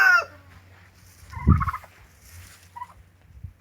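A turkey lets out a gobble near the start, then a deeper burst mid-way, followed by quieter scattered calls against a low background hum.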